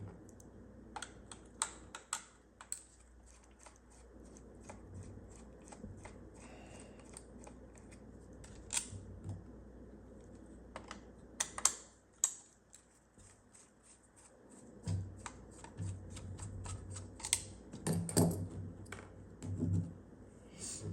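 Small screws being undone from a Radiomaster MT12 RC transmitter, a run of light, dry clicks and plastic ticks at an irregular pace, close and fairly quiet, with occasional handling rustles.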